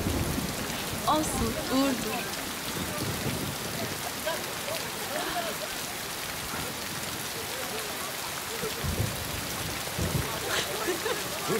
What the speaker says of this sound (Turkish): O yağmur fena indiriyor.